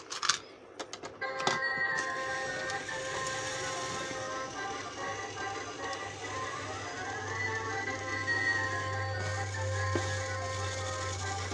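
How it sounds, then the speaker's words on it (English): A claw machine holding mystery eggs and an ice cream cone prize runs steadily with a continuous mechanical whir and a low motor hum, a few sharp clicks at the start, and electronic tones layered over it. "what you want me to do next with this claw machine"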